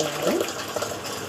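Water poured into a container, a brief close stream with a short rising gurgle as it fills, with a faint voice in the background.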